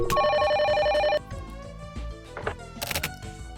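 In The Silver Case video game, a telephone rings with a bright electronic trill that repeats in quick pulses, then cuts off. Scattered thumps and clicks follow it.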